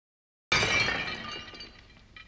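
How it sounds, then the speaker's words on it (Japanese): A chair smashes through a second-floor glass window, a sudden loud shatter that bursts out after a silent moment, then scattering shards tinkle and fade, with a small clink near the end. "2階のガラス窓を割って飛び出してきた椅子が道に落ちてバラバラに壊れました。"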